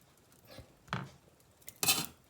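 Steamed wild mushrooms are scooped onto a plate with utensils, making a few scattered clinks and scrapes of metal on dishware, the last one sharper and louder, with no voices.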